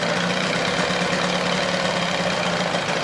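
A 1988 Johnson 9.9 hp outboard motor idles on its own, giving an even, continuous mid-pitched drone with a faint knocking texture and no voices over it.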